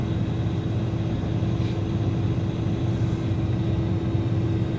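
A car engine idles steadily after a cold start in freezing winter weather, with the power steering pump running. The drone is close, even and continuous, with a constant low hum and no voices.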